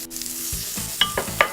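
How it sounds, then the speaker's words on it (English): Shrimp sizzle in a hot pan, a short burst of frying hiss broken by a few clinks and stirring sounds. "good sizzle going."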